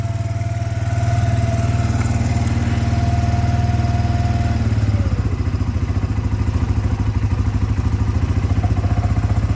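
A 2004 Suzuki Eiger 400 4x4 ATV engine idles steadily while warming up, a close, continuous low thrum that shifts midway into a rougher, faster chugging pulse and keeps running to the end.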